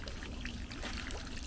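Rainwater trickles through an overflow back into a storage barrel, a soft continuous dribble close by.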